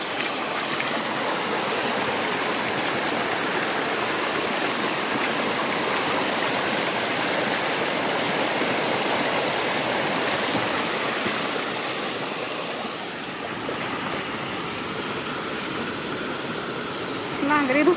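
A stream flows steadily near a ragi field in Kolhapur, with a continuous broadband rush of water that holds constant throughout and eases slightly toward the end.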